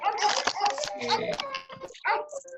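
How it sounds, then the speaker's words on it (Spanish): A dog whimpers and yips in short bursts, mixed with a voice talking nearby. "Ahí el perrito."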